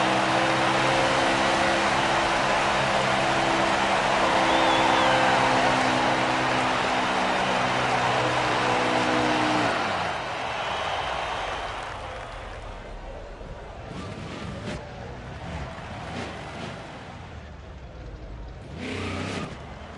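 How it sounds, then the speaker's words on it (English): A NASCAR Craftsman Truck Series race truck does burnouts under the flag stand at Michigan International Speedway. The engine roars loud and sustained for about ten seconds, then fades into distant track ambience with a few brief rumbles. "Gotta do some burnouts under the flag stand."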